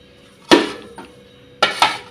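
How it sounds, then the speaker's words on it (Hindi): Kitchen dishes and utensils being gathered up give two loud clattering clinks of metal and ceramic, one early and one near the end, with a faint rattle between them, close by. "बर्तन तो अभी मैं समेट ली हूँ"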